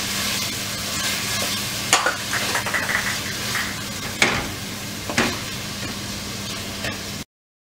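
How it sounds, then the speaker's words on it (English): Tomatoes for pav bhaji sizzle and bubble steadily in a pan, with occasional sharp spoon scrapes and taps against the metal while being stirred. "Cook the tomato till it is completely soft."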